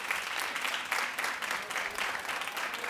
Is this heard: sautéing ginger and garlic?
no